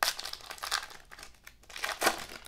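Plastic wrapper of a Panini Chronicles basketball card blaster pack being torn open, a short run of bright crinkling and crackling bursts close by.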